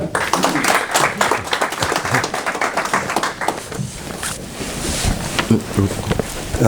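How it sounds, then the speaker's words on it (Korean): Audience applause at a Korean policy forum on nuclear threats, welcoming a speaker to the stage; steady dense clapping fills the room for several seconds, fading slightly toward the end. "여러분 큰 박수 부탁드립니다."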